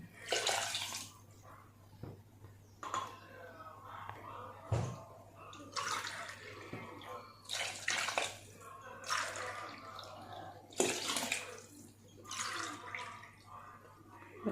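Water poured into a cooking pot for spinach biryani, six tumblers measured in, coming as several separate splashing pours with short pauses between them, fairly quiet.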